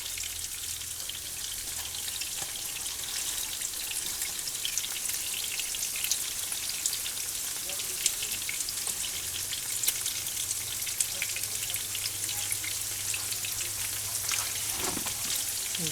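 Crispy pork chops fry in a pan with a steady, dense crackling sizzle that holds evenly at moderate volume from start to finish, broken only by a few sharper pops, with no talking.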